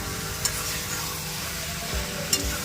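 Onions and chicken stir-fried in a pan for onion chicken masala, a dense steady sizzle with occasional spatula scrapes and taps, close and continuous.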